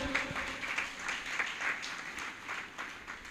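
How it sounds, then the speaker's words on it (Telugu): An audience claps loudly at a church blessing service, a dense, steady stretch of applause with a sustained tonal sound running faintly underneath. "గట్టిగా చప్పట్లు కొట్టండి"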